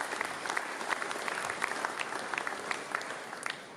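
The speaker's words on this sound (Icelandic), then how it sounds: "rétt að gefa þeim bara gott klapp" Audience applause at an accordion festival concert in Ísafjörður, a steady dense clapping from a crowd lasting throughout with no speech over it.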